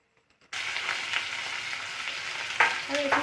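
Cut potato frying in a pan, a sudden steady sizzle that begins abruptly and continues at moderate level, with a few light stirring scrapes near the end.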